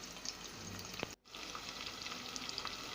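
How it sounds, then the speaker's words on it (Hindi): Sliced onions fry in oil with a steady, close hiss and crackle that cuts out for a brief moment and then returns, with a few faint clinks and no talking. "अब हमने इसको, प्याज को ऑयल में फ्राई करना है, यानी तलना है लाइट ब्राउन होने तक।"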